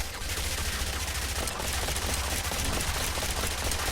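Rapid, dense pistol gunfire rattles continuously through the zombie survival video game Yet Another Zombie Survivors, a steady barrage of overlapping shots at constant loudness with no talk.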